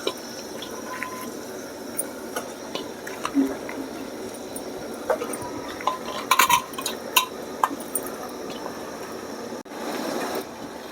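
Goat head pieces dropped into a pot of fried masala for curry give soft wet thuds and squishes, with scattered clinks of metal on the pot over a low background hiss.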